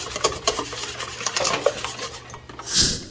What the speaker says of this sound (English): let's mix this up really well. Got my egg mixed in there